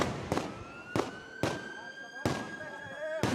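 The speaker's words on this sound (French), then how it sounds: "Plusieurs explosions retentissent." Dynamite blasts at a large construction site in Rio de Janeiro, heard as about six sharp, booming detonations spaced irregularly, each with a rumbling tail, over a steady tonal hum and faint background voices.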